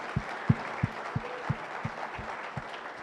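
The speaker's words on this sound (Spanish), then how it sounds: "que me ayudaran todos ustedes a darles un aplauso precisamente a ellos y a toda la empresa" An audience at a talk applauds softly and at a distance, with a steady wash of clapping broken by a run of regular low thumps spaced under a second apart.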